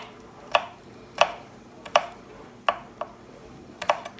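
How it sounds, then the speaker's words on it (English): A knife chops a small garlic clove on a board with about nine crisp, separate strikes at an uneven pace, close and clear with no talking. "I do have a little clove of garlic that I'm going to try to chop up"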